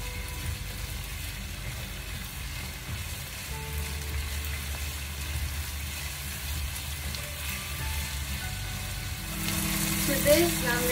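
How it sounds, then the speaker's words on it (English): Chilli soya, an Indo-Chinese vegan dish, being stirred into its sauces over medium heat: a steady close sizzle and frying hiss with soft stirring scrapes, growing louder and brighter near the end. "let's turn the heat back up to a medium and mix everything well"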